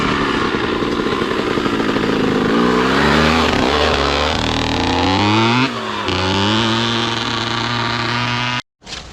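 A KX dirt bike's engine revs and drones loudly and close on a dirt motocross track, with rising and falling pitch through throttle changes before cutting off abruptly near the end.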